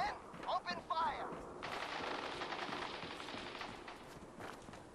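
Gunfire in the video game Fallout 4, a burst of rapid shots after brief shouted voices, fairly quiet and sustained for several seconds before tapering off.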